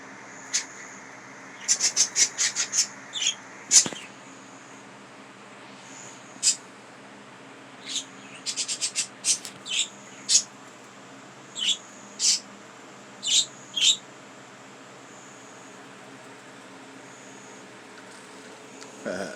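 Small budgies chirping indoors, quick bursts of bright, high chirps and rapid trills scattered across the stretch with short quiet gaps between, fairly close.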